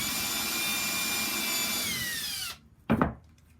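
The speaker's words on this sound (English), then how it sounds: "We'll drill 4 holes with the countersink on each side." A power drill with a countersink bit bores into wood for the base of an epoxy mold for a charcuterie board: a loud, steady whine for a couple of seconds, then it stops and a single brief knock follows.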